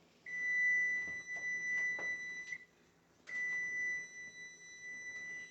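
A kitchen timer beeping in a home kitchen during hot fudge cake baking: two sustained, fairly loud electronic tones, the first about two seconds long, then a pause before a second long beep, with faint clatter underneath.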